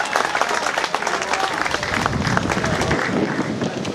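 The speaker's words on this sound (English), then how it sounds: "a big round of applause for the two fighters" A crowd at a fight event applauds the two fighters after the bout, sustained loud clapping and crowd noise continuing without a break throughout.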